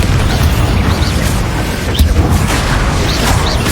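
Repeated booming blasts from Confringo spells fired in Hogwarts Legacy combat, dense and loud, with sharp bursts around the two-second mark layered over a rumbling, continuous battle din.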